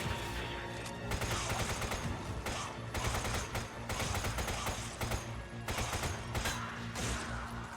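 Sustained, dense gunfire from a Resident Evil 5 shootout, loud rapid bursts of shots rolling on with only brief gaps throughout.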